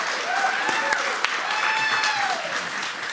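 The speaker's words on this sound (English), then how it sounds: "Give a big round of applause for Creative Assembly, Lionheart, and Jackie" Steady applause from a live audience at a Total War Saga: Thrones of Britannia showmatch fills the whole stretch, dense clapping at a fairly loud level with a hint of crowd noise beneath.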